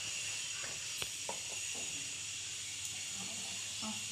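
Cumin seeds sizzle in hot oil in a bowl, tempering for a mint chutney: a soft, steady frying hiss, fairly faint and constant, with a few small crackles.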